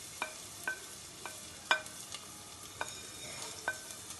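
Black pepper, ginger, garlic, cumin and fennel seeds sizzling in a pan, a faint low hiss punctuated by several sharp metallic stirring clinks at irregular intervals.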